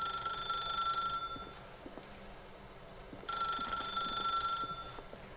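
A telephone in The Stanley Parable rings in two long bright electronic bursts separated by a quiet pause of about two seconds, loud and clear, with no one talking over it.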